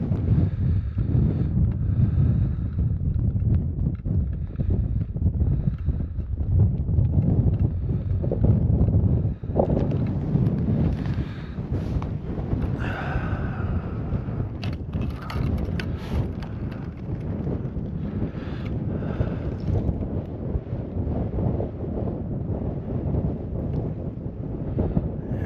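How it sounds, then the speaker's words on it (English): Steady wind buffeting the microphone on an open frozen lake during rainy ice fishing on Red Lake, a continuous rough low roar with gusty surges throughout, loud and close, with no talk. "I guarantee that was a wind."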